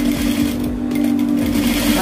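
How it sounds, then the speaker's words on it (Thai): A sewing machine stitches lace fabric for a garment, its motor humming steadily and close with a fast, even mechanical whirr that carries through the whole stretch. "มาเริ่มเย็บกันเลยนะจ๊ะ"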